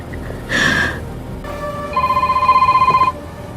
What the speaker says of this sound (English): Suddenly Everett's phone rings.